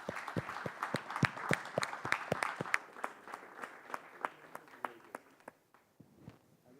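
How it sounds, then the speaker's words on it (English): Audience applause for the speakers at a climate science panel discussion, a fairly faint, scattered clapping that thins out and fades over about seven seconds. "Big round of applause for our speakers"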